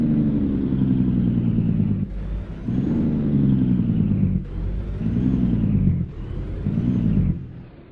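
Peterbilt 350 truck engine in American Truck Simulator, revving hard at full throttle in a deep loud drone that climbs and drops with each gear change, roughly three surges, no talk.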